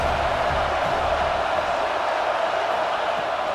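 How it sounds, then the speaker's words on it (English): A football stadium crowd roars in a steady, loud wash of noise during an offensive play in a USC versus Notre Dame rivalry game. "This crowd trying to make life miserable for this offense."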